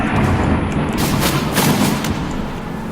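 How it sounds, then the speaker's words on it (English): Dynamite explosions in the video game The Forest, a dense rumbling boom that holds loud and steady for about three seconds, with brighter bursts of blast noise rising near the one- and two-second marks. "Blow it up! Kill it with explosions!"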